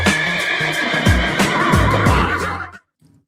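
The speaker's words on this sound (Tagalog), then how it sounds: "Kabayo! Kabayo!" A horse gives a loud, close whinny that rings for nearly three seconds on its own, then cuts off abruptly into near silence.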